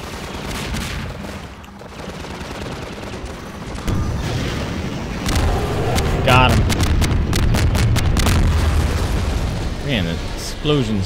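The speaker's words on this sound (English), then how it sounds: "Explosions loud." Loud, dense bursts of explosions and rapid gunfire in Half-Life 2 rumble continuously, with sharp cracks layered on top and voices talking underneath.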